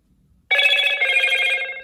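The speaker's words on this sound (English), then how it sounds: "underneath that, we got the notification sound" A bright electronic notification chime from a Motorola Moto G Power (2022) phone rings out after a brief silence, a sustained tonal sound that holds steady and loud until the end.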